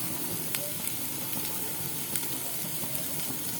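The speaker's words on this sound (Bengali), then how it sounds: "এবার আমি এখানে গ্রিন ক্যাপসিকাম দিয়ে দিচ্ছি।" Strips of green capsicum, cut lengthwise, hit hot oil in a pan for restaurant-style Dragon Chicken, giving off a steady, close sizzle and hiss with faint crackles and no talking.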